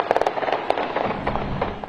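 Rapid bursts of gunfire crackle at a crowded outdoor victory celebration for the Kansas City Chiefs Super Bowl win, a quick cluster of sharp pops followed by scattered shots over crowd noise.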